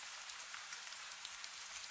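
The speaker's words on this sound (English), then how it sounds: "The rain falls steadily but kindly, not sharp, not cold enough to trouble you" Steady, gentle rain falls on wet stone, a soft continuous hiss of small drops with occasional brighter taps, even and calm throughout.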